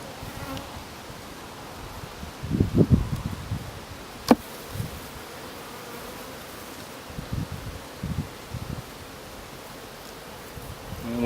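Honeybees hum in a continuous buzz during a winter hive inspection, close and steady, with a few rustling and clunking handling noises over it.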